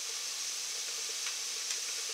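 Minced garlic cloves sizzle in a hot pan while lasagna is being made: a steady, even frying hiss with faint crackles, close and constant throughout, with no talking.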